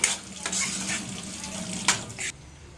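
Street-style egg fried rice seasoning with soy sauce and garam masala powder is sautéed in a pan, a steady sizzle broken by a few sharp spatula scrapes and clatters.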